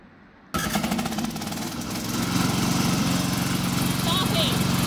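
A remote-operated rubber track slope mower's engine fires up by electric start after a quiet moment, then runs on with a loud, steady, rattling drone while a voice talks over it.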